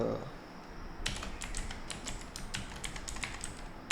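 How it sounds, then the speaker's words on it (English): Fingers tap a computer keyboard entering a root password, a quick run of close, crisp keystrokes in an irregular rhythm over faint room noise. "I'm going to type the root's password"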